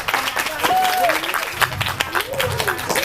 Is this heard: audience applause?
yes